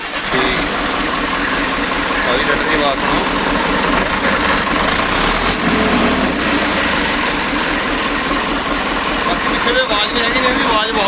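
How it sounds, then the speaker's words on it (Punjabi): The diesel engine of an old 5911 tractor chugs steadily at idle throughout, a continuous low rumble with people talking nearby over it. "ਟਰੈਕਟਰ ਵਧੀਆ ਆਪਣੇ ਬੜਾ ਸਟਾਰਟ ਕਰਕੇ ਦਿਖਾ ਦੇ ਭਾਈ"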